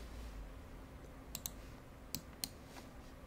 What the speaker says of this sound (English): So I'll just right click on that